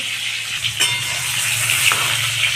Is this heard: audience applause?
no